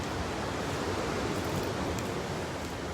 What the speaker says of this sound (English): look how high that the water is and look at the waves